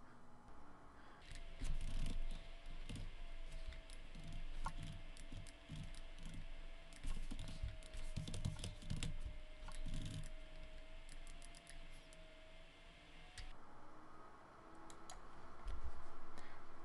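Light, irregular typing on a computer keyboard while a web form is filled in, quiet clicks coming in scattered bursts over a steady faint background hum, with no voices.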